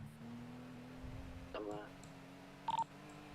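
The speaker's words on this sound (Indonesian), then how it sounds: "Gue telepon ke Mora dulu nih" A telephone is dialed inside a car while the engine hums steadily underneath, with a couple of brief tone bursts near the end and a short stretch of talk just before them.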